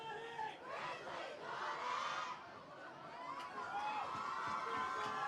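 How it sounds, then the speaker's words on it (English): A crowd at a high school football game between the Grizzlies and a rival cheers and shouts excitedly, a fairly distant, quiet roar of many voices that swells and dips. "as you can hear from the crowd, everyone else seems to be just as excited"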